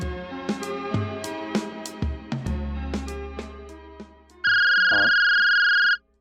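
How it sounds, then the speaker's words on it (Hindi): A landline telephone is dialed with a quick run of keypad tones over background music, then a steady ringback tone sounds loudly for about a second and a half before cutting off. "अभिषेक को लगाता हूँ फोन।"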